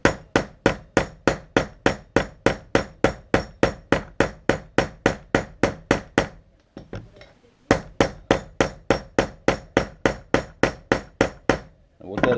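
A ball peen hammer strikes a brass pin in a knife handle in a rapid, even series of sharp metallic taps, about three per second, loud and close, pausing briefly midway before the steady peening resumes.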